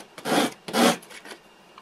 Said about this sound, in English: give it a sanding so it's nice and flat.